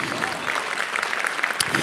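Audience clapping for council members at a Women's History Month salute event, a short steady patter of hands from a crowd, close and continuous.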